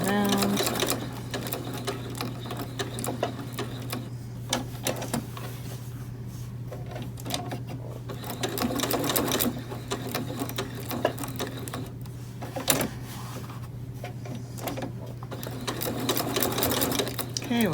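A sewing machine stitching down the edges of small fabric cord keepers, running steadily close by with a fast mechanical whir and brief pauses at corners, under a person talking.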